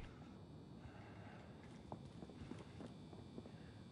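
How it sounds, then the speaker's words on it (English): Enemy footsteps in the game Warzone, a steady patter of light steps over a constant hum of game ambience, fairly faint and unhurried. "You hear the footsteps, don't you?"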